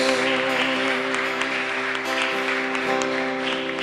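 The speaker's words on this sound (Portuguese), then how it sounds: "Aplauda ao Senhor." A church congregation applauds steadily throughout, a dense wash of clapping over a sustained musical tone.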